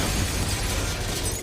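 A bomb tied to a hound explodes inside a hallway in an action-thriller film, a dense roaring blast with crumbling debris that fills the whole moment at close range.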